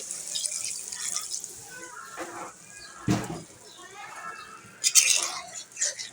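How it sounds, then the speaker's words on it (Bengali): Water is poured into a pan of cooking cabbage, a brief splash and hiss amid kitchen clatter, with someone speaking over much of it. "আমি এখন অল্প করে পানি দিয়ে দিচ্ছি"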